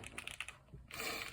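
Keys on a mechanical keyboard with lubed switches clack in a quick run of crisp, close strikes, pause briefly, then resume in a denser, faster patter; quiet and alone.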